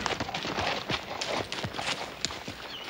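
Horse hooves clip-clopping as a rider arrives in a Wild West setting, a quick irregular series of sharp close hoof strikes on hard ground, moderately loud and heard on their own.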